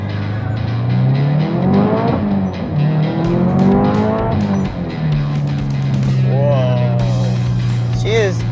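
Tuned Subaru STI with a COBB build, its engine revving up repeatedly through rising and falling gear pulls, loud and close from inside the car, with someone talking over it.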